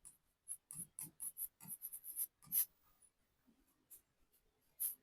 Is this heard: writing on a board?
yes